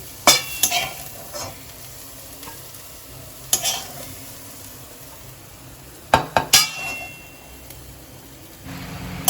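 Lightly browned fried onions stirred and lifted out of a pan: a low continuous sizzle broken by several sharp metallic clinks and scrapes of the utensil against the pan, close and with no voices.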